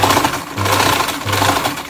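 A sewing machine runs a zigzag stitch on cloth nappy elastic in short close bursts, its fast rattling whir pausing briefly between runs.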